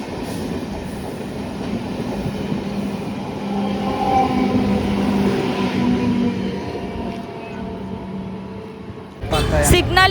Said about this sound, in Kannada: ನಾವು ಗೊಳ್ಳಹಳ್ಳಿಯಲ್ಲಿ ಈ ಟ್ರೈನ್ನ ಕ್ರಾಸ್ ಮಾಡ್ತಾ ಇದ್ದೀವಿ.